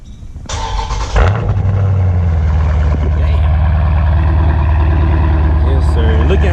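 A car engine cranks and catches after a cold-ish start, then settles into a steady, loud idle close by, with a low continuous rumble lasting several seconds.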